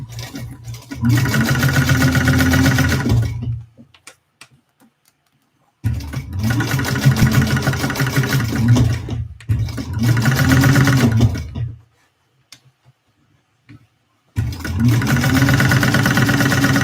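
A sewing machine stitches a Victory Bowler Bag in loud, close bursts of steady whirring, three long runs broken by near-silent pauses with light handling noises.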